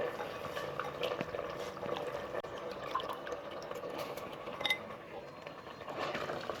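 Soaked seeraga samba rice goes into a pressure cooker of partly cooked chicken for Ambur biryani, giving a close, wet rattle of grains with small splashes and clicks, no talking.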